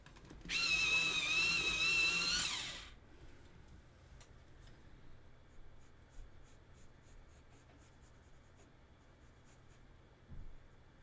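A graphite pencil is sharpened with a brief, close scraping grind of about two seconds. A quiet room follows, with faint ticks and a soft knock near the end.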